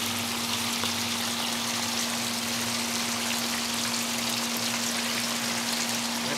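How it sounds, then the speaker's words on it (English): Rain falls steadily onto a garden pond, a close, even patter and hiss with no pauses, joined by a low constant hum. "And now it's raining."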